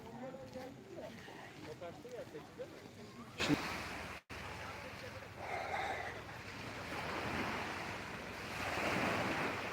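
Surf washes onto İnlice beach near Fethiye, Turkey, in a steady roar, with wind buffeting the microphone and a sharp knock partway through.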